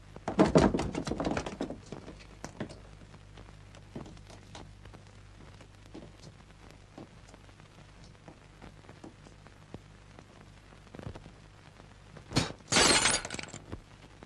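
A mirror shatters loudly at the start, with pieces tinkling and scattering afterward, then a second sharp crash of breaking glass near the end.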